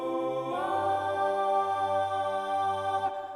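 A choir sings sustained, layered chord tones on its own as part of a dark electronic music track build-up, holding rich harmonies steadily for about two and a half seconds before cutting off, full and close with no other instruments.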